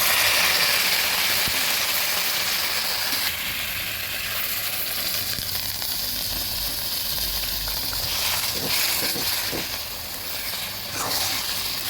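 Hot water poured into a pan of fried hilsa fish head and taro stems sets off a steady, loud hiss and sizzle that carries on throughout, easing slightly near the end.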